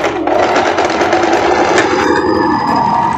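A sewing machine stitches a skirt seam on a short lace dress, a steady close mechanical whir running throughout, its pitch shifting slightly partway through.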